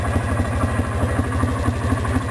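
A four-wheeler ATV drives down a road near a build site in Weston, Colorado. Its engine throbs in a fast, even low pulse, loud and close, with no voices.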